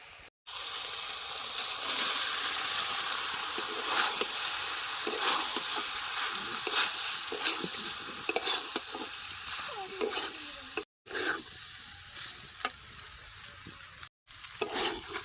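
Pasta stirred into cooked spiced chicken in a pan over village-style cooking heat, a continuous loud sizzle and fry with scraping stirs throughout, briefly cut off a few times.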